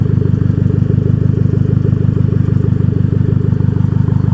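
A 2008 Mazda Speed3 Turbo with a dirty Cork Sport aftermarket exhaust idles close by, a loud, steady, low burble with an even pulsing rhythm throughout.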